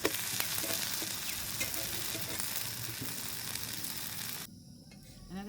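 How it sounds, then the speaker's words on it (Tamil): Dosa batter sizzles and fries in sesame oil in a pan, a steady, close crackling hiss with faint scraping that runs for most of the stretch, then drops suddenly to a quieter sizzle near the end. "இது நான் எண்ணெய் தோசை செய்கிறேன். நல்லெண்ணெய் தான் விடுறேன்."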